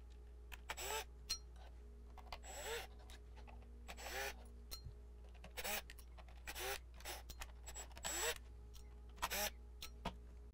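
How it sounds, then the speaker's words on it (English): A power driver backing screws out of a Thrustmaster GT paddle kit, with short whirring bursts repeating at irregular intervals, faint and close against a steady low hum. "So we'll go ahead and pull all the screws out now."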